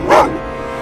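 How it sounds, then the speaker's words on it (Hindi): A single short dog bark, loud and close, cut off quickly and followed by a dull, steady background hum. "ये कुत्ते तुम्हें ढूंढ भी लेंगे और मार भी डालेंगे।"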